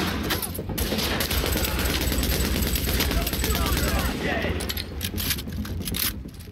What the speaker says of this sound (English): I have a machine gun.